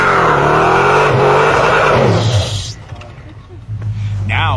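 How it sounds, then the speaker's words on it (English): A Toyota Tundra truck rolls back and climbs a snowy hill, its engine droning loudly with tyre noise before easing off and revving again near the end, with voices talking over it. "The car rolls back and tries to climb again from this position."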